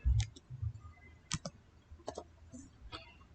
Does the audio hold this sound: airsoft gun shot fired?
no